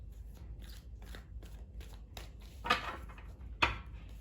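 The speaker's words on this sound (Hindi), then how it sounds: "मैंने शफल कर लिए हैं कार्ड्स" Tarot cards are shuffled by hand in quick, riffling bursts, close and crisp, with two louder snaps near the end as the deck is knocked together.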